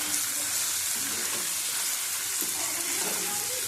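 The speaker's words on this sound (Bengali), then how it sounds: "ভালো করে কষিয়ে নেব এটা।" Spice masala for loitta fish fries in a hot pan, a steady, dense, close sizzle that holds evenly throughout with faint stirring underneath and no speech.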